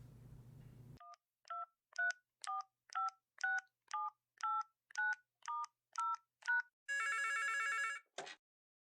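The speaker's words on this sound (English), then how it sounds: "let's get Laura on the phone." A phone takes a dial tone, then about a dozen evenly spaced keypad tones are dialed to place a call, followed by a buzzing connection tone and a brief chirp.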